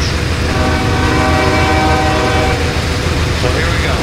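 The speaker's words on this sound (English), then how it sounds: "Mixed freight train through Rochester." A mixed freight train passes through Rochester on a CSX mainline in Train Simulator 2014, hauled by ES40VC and Dash 8 diesel locomotives, with a steady loud engine rumble, rolling wagons and a horn sounding, close and continuous.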